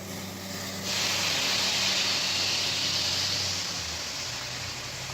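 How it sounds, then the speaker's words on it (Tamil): Tamarind water being poured into a hot pot of white pumpkin (ash gourd) sambar makes a steady, loud hissing rush. It swells in after a quiet start and holds for several seconds before easing slightly. "புளி தண்ணி ஊற்றிக்கிறோம்."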